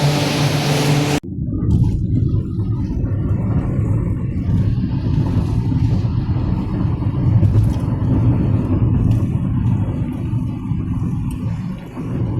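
A car cruises along the Mumbai–Goa highway near the Bhoste ghat, a loud, steady low road rumble and engine drone heard from inside, preceded by a brief burst of broadband noise at the start.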